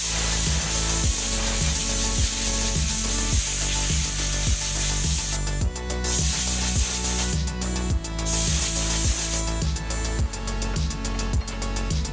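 Compressed air at about 1.6 bar blasts across the radiator grill of a Solis 26 tractor. It is a loud, continuous hiss up close, backed by a rhythmic mechanical thumping that repeats throughout.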